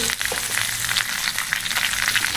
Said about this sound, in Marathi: आता आपल्याला हे चांगलं भाजून घ्यायचं आहे। चांगली मिरची भाजल्यानंतरच आपला मिरची खूप छान लागतो।